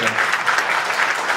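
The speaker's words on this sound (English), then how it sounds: "Round of applause." A brief burst of audience applause at a business conference on how businesses survived the winter during wartime in Ukraine, dense and fairly loud, with crowd clapping filling the short moment.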